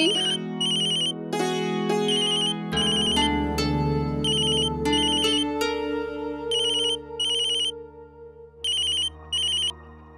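A phone ringtone plays alone, a bright repeating electronic melody with rhythmic chiming bursts, loud and close for about ten seconds.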